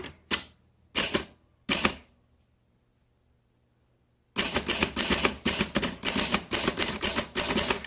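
Keys clack on a 1936 Remington Rand 5 manual typewriter: three isolated loud strikes, a pause of silence, then a rapid, close run of crisp keystrokes.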